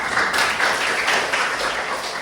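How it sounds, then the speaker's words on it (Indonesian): A class applauds in a classroom: a dense, steady wash of many hands clapping that fills the whole short stretch at close range. "tepuk tangan untuk Natasha."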